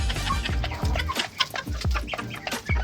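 Broody hen clucking close by, a run of low, throaty clucks and grumbles in an uneven rhythm, with no talk.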